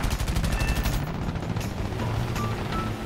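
Nose-mounted .50 caliber machine guns on a US strike aircraft in a combat flight game, firing a rapid, loud, continuous burst of rattling shots up close, with a brief drop in the middle, no talking.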